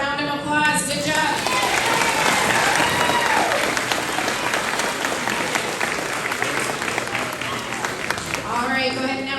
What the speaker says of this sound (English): these scholars deserve a round of applause